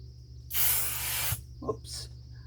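Aerosol can of temporary fabric adhesive spraying onto quilting fabric: one loud hissing burst lasting nearly a second, then a brief softer second spritz, close up and alone.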